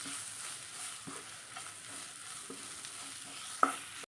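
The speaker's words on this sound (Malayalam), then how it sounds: "മിക്സ് ചെയ്ത് കൊടുക്കാം" Spices such as chili powder fry with chicken for pepper chicken, a faint low sizzle broken by soft, periodic stirring taps and one slightly sharper knock near the end.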